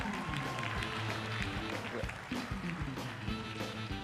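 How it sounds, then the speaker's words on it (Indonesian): An audience claps and cheers for comedian Rian at a stand-up comedy grand final, a dense wash of applause running throughout beneath a host speaking over it. "Tepuk tangan sekali lagi buat Rian."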